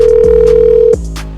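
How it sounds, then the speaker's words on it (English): A steady telephone dial tone hums loudly for about a second, then cuts off abruptly, leaving a short fading tail; no voices are heard. "all he has to do is get on the phone and call Kris Jenner"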